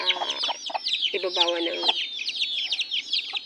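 A mother hen clucks in low, rhythmic bursts near her chicks, whose high, thin peeping runs continuously and close by, while a person briefly speaks underneath.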